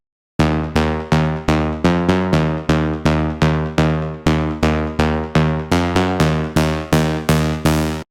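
A fat synth preset called Plug Reborn from a CamelPhat producer pack, playing evenly spaced punchy plucked notes in a steady repeating rhythm, each with a sharp attack and quick decay, loud and dry with no voices.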